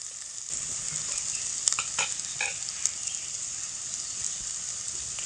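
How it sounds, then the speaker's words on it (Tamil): Onions and tomatoes sauté in a pan while cooking a ridge gourd dish, giving a steady close sizzle with a few scraping stirs and light crackles. "தக்காளி 2 தக்காளி எடுத்து அரிஞ்சு வச்சுருக்கேன், அதையும் சேர்த்து நல்லா வதக்கிக்கலாம்."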